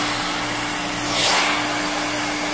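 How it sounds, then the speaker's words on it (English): A blow dryer runs steadily on a client's hair during a silk press, its nozzle pointed down. The broadband whoosh carries a constant motor hum and swells briefly midway as the airflow shifts closer. "That does a press with the blow dryer for you."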